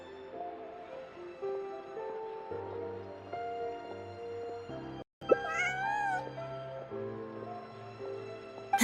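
A cat character in Genshin Impact meows several times in the middle of the clip, close and clear over soft continuous game music.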